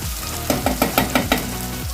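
Chopped ginger, chili and garlic fry in hot oil in a pan while cooking Kathiyawadi baingan bharta, giving a steady loud sizzle broken by a quick run of rhythmic stirring scrapes.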